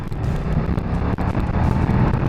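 A 2020 BMW F900 XR motorcycle engine pulls hard under acceleration, a loud, close, gritty drone mixed with rushing wind buffeting the microphone, steady throughout a short run.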